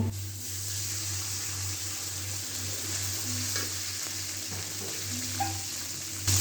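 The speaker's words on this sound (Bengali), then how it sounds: "বন্ধুরা এখন আমার পেঁয়াজ ভাজা হয়ে গেছে, আমি সামান্য পানি দিব" A little water added to onions frying in a pan gives a steady, even sizzle and hiss that runs throughout at moderate level, with faint clinks near the end.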